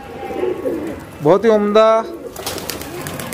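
High flyer pigeons of old Jaipur and Tonk breeds coo close by with a soft, rolling throaty call, while someone speaks briefly over the birds.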